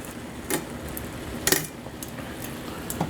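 Pasta tossed with pecorino cheese in a pan gives sharp clanks and scrapes of a utensil against metal, a few distinct hits over a steady background hiss, with no talk.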